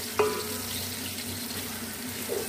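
Onions frying in hot cooking oil in a pan for pulao, a steady close sizzle with a faint hum underneath and a couple of small clinks.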